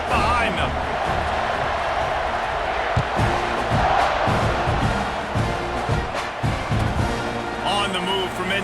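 A stadium crowd roars and cheers in the NCAA 26 college football video game, a dense sustained wall of noise with shouts rising and falling, while a commentator talks over it throughout.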